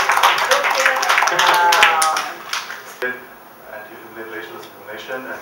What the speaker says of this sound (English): a big round of applause for the cartoon